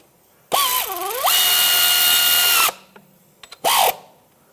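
Power socket driver spinning bolts into the timing cover of a 1997–2001 Lexus ES 300: two loud whirring runs, the second long and steady, then a short final burst after a few light clicks, close up with no talk.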